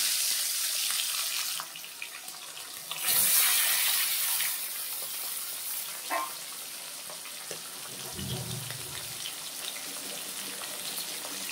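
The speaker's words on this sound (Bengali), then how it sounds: "চলো মাছগুলো ভেজে নিই।" Pomfret fish rubbed with salt and turmeric sizzle in a hot wok, a steady hissing frying sound with a louder burst partway through and a few soft clatters.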